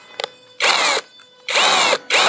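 YUANSEN cordless drill boring into a glass bottle with a tubular ceramic-glass bit, two loud sustained grinding bursts and a short third, with brief quiet clicks between.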